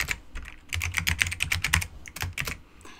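Quick bursts of close, crisp keystrokes on a computer keyboard as a MongoDB query is typed, with brief pauses between flurries of clicks and no talking.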